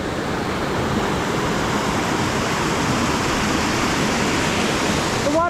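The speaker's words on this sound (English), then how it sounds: "The waterfall's actually pretty low this time of year" A low-flowing waterfall in Bell Canyon on the Wasatch Front near Salt Lake City, heard as a steady, close rush of falling water that stays even throughout, with a few faint chirps at the very end.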